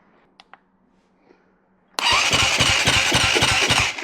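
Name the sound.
dirt bike engine cranking over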